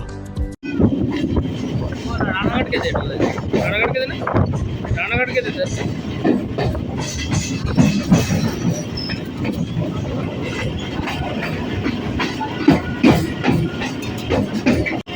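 A moving passenger train near Ranaghat Junction in West Bengal gives a steady, loud rumble of railcars with rhythmic wheel clatter and occasional squeal, continuous throughout with a voice speaking over it.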